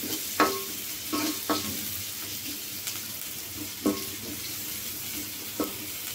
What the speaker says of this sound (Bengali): সিদ্ধ হয়ে যাওয়ার পরে আমি এখন একটা রসুন, একটা পেঁয়াজ দিয়ে বাগার দিচ্ছি।